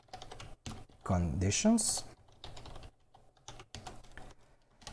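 Typing on a computer keyboard, with a rapid run of key clicks that pauses while someone speaks and then resumes in short bursts, close and clear.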